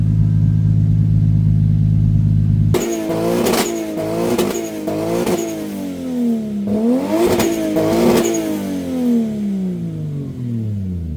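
A loud car engine idles with a deep drone, then revs sharply several times, the pitch swooping up and down with each burst.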